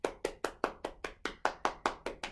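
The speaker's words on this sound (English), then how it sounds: "Can we give Koala a big clap?" A steady run of about twelve sharp, evenly spaced claps from an audience, cheering for Koala in a children's storytelling session, close and crisp with no talk over them.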